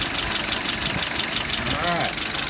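Don's WO 636SA engine idles at about 680 RPM, a steady, even mechanical rumble with a faint whine, heard up close with a brief muffled voice-like sound near the end.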